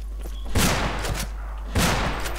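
Two heavy shotgun blasts boom out in Fistful of Frags, about a second apart, each a loud broadband burst trailing into a short rumble, with no voices over them.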